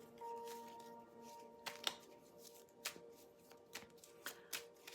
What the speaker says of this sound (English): Get a few more cards out here.